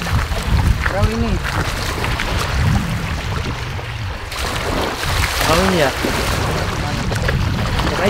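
Boat moving across open water, with a steady broadband rush of water and wind close by, while several people talk over it.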